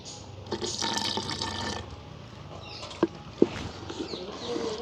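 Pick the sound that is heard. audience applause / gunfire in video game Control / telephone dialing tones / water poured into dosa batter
water poured into dosa batter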